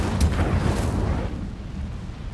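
Incendio fire spell cast in Hogwarts Legacy, a loud low rumbling burst of flame that flares at the start and gradually dies down.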